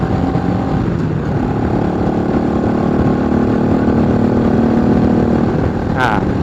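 A motorcycle engine pulls in third gear, a loud steady mid-pitched drone with strong wind rush, heard close as from the rider, with a rising whine near the end.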